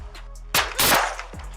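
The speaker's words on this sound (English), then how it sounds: "Shots fired! Shots fired! Shots fired!" Gunfire in police bodycam footage during an armed confrontation: a few sharp, loud broadband cracks in quick succession over a steady background hum, with one fainter report trailing after.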